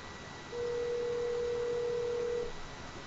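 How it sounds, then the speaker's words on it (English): An Apple Watch placing a cellular phone call from the Steve Jobs Theater, a single steady ringing tone lasting about two seconds over a quiet hiss, with no talking. "I'm going to tap on the phone app, and I'm going to call Deidre"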